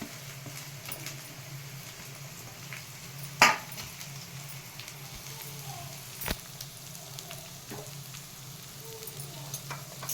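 Onion and green chilli with a little salt fry in oil in a pan, giving a steady soft sizzle throughout, broken by a sharp utensil clink or two, close by and without talk.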